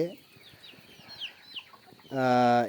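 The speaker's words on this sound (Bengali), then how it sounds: "এখানে মূলত 119টি ছিল টাইগার মুরগি" Tiger breed chickens cluck and chirp softly on a farm, scattered short calls and peeps close by, ending with a loud, drawn-out harmonic squawk.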